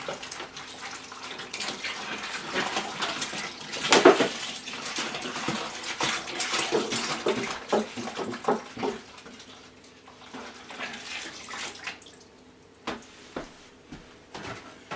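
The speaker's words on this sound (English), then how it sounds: "I'm just going to add some cold water here." Cold water pours and splashes steadily into a container to cool an Irish stout homebrew, with clinks and knocks of handling, tapering off into intermittent sloshing.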